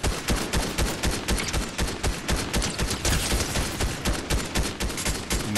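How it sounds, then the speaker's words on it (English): Rapid gunfire in Fortnite Chapter 3 Season 4: dense, continuous bursts of shots fill the whole stretch at a steady, loud level with no talking. "I'm being shot at. By a dude. They're shooting at me now."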